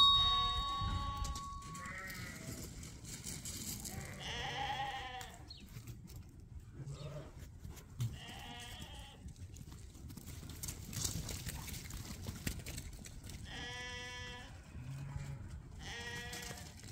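Sheep and lambs bleating in cold, snowy weather outdoors, several scattered calls at moderate distance over a soft rustling background, with no talk.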